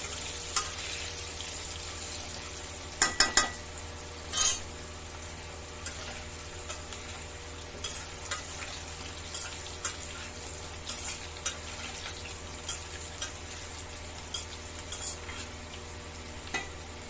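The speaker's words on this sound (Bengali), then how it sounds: "আমার আলু ভাজা হয়ে গেছে" Potatoes frying in oil make a quiet, even sizzle, broken by a few sharp clicks and clinks from a utensil touching the pan, no voices.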